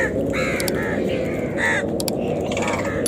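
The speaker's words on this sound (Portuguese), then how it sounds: "Os corvos circulavam, alguns empoleirados perto" Crows caw repeatedly in short bursts near an eagle feeding on the rocky mountain heights of Central Asia, with a narrating voice running steadily underneath.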